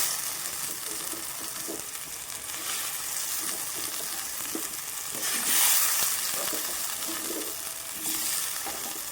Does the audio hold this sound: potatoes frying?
yes